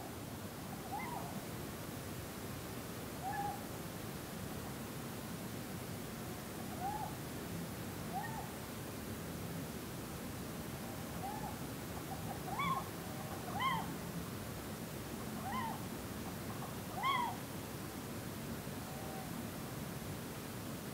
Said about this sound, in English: A little owl now appears to have joined in with the activities on and around the field.